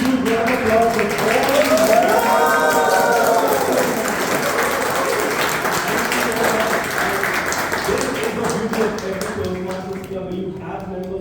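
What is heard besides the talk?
applause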